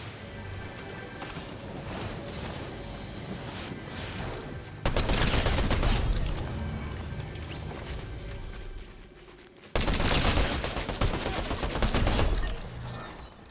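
Dense rifle fire rattles in the Fortnite battle royale game as sustained, loud volleys of rapid shots, surging twice to heavier bursts with no talking over them.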